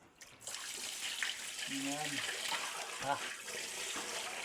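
Water is poured during preparation of a homemade chili sauce, a broad wash of liquid running steadily for several seconds, with a person speaking over it.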